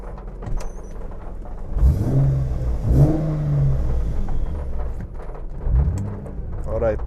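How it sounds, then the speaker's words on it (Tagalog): Exhaust and muffler of an 800 HP track-built car revving in several rising bursts, loud and close, with people talking over and between the revs. "So here's the muffler for you, yung tunog sound check."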